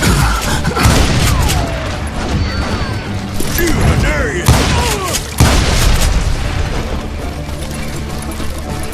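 Hired guns in the Western shooter game Call of Juarez Gunslinger let off dense, loud gunfire and booming blasts in overlapping bursts, with a voice talking over the shots.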